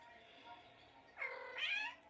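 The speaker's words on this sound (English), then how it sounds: "you get out of here, you ornery cat" A cat meows close by during a men's college basketball broadcast, giving a drawn-out wavering call, then a second rising meow that runs straight into it, heard over faint room noise.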